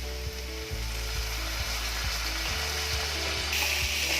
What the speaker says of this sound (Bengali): আর এর মধ্যে দিয়ে দেবো আমি সামান্য কেওড়া জল।